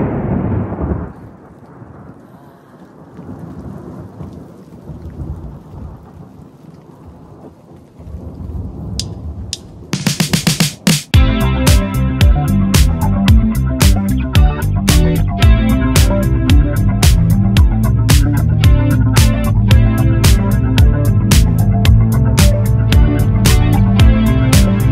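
Steady rain with a low rumble of thunder at a rain-soaked, muddy campsite near Valvan Dam, heard for the first ten seconds or so before loud music takes over.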